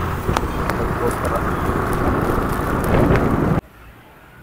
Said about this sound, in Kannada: ಕಂಟಿನ್ಯೂಸ್ ಮಳೆ ಬರ್ತಾ ಇದೆ.